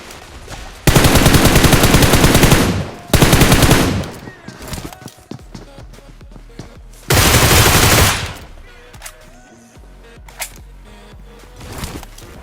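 Loud bursts of automatic gunfire from the battle royale game BGMI, two long rapid volleys in quick succession, then a quieter stretch of scattered clicks and mechanical sounds before a third sustained burst.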